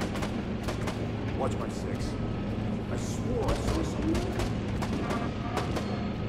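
Gunfire in Dead Rising 4: rapid, repeated sharp shots and bursts, some close and some distant, running continuously under a voice.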